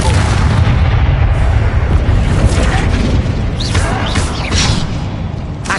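A Bombarda explosion spell from Hogwarts Legacy on PlayStation 5 roars as a loud, sustained booming blast with crackling debris, filling the whole moment close up without any voice.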